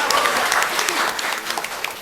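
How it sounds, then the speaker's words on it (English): Audience applause at a university and college quiz competition, a dense wash of many hands clapping steadily and fairly loud, with faint voices mixed in beneath. "Please give me a big round of applause."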